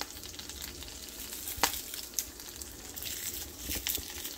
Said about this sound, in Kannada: ಅದೇ ಕರ್ಬೇವಿನ ಸೊಪ್ಪು ಹಾಕ್ಬೋದು.